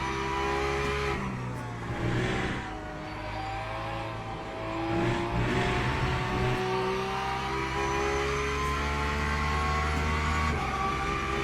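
Porsche race car engine in iRacing / Le Mans Ultimate on the run down Mulsanne, a loud, sustained, droning rev that climbs steadily in pitch with a brief shift, heard alone and close.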